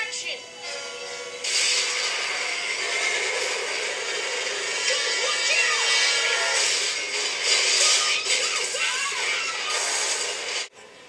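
The small speakers of a Motorola Droid XYBoard 10.1 tablet play a movie trailer at about two-thirds volume, with music, rumbling effects and dramatic hits blending together, ending in a sudden drop.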